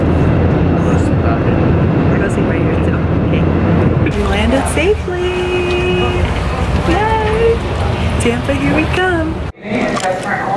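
Steady broadband roar of an airplane cabin in flight, a continuous loud drone throughout, with excited voices talking over it near the window seat.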